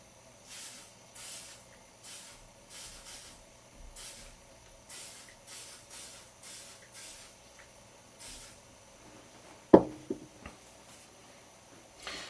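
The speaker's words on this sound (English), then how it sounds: "spray the gun down with WD-40 to protect the steel" Repeated short hissing bursts of WD-40 aerosol spray onto a steel gun, fairly close, evenly spaced, followed by a couple of sharp clunks.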